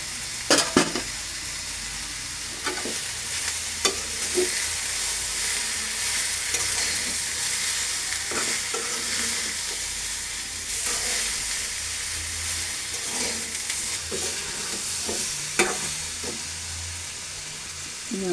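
Small puti fish fry in a pan with turmeric and salt, a continuous moderate sizzle broken by repeated stirring scrapes and occasional clanks, with no talking.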